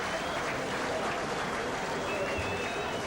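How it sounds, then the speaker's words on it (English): Spectators at a rugby league match between Rochdale and Keighley cheer and applaud after a try, a steady roar of crowd noise with a commentator talking over it. "The crowd rise to their feet"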